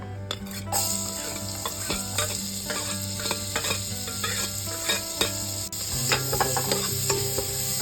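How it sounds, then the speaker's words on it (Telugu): Onions and shahi jeera fry in oil in a pan with a loud, steady sizzle, while a spoon scrapes and taps the pan in repeated stirring strokes close by. "మనం దీంట్లో షాజీరా, ఆనియన్స్ వేసేసుకుందాం."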